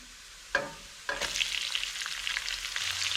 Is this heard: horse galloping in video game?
no